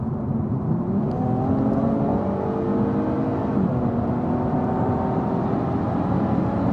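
A 2020 Infiniti Q60 tuned to around 400 horsepower accelerates hard, its engine note climbing steadily and loudly through the gears with a continuous whirring drone heard from inside the car.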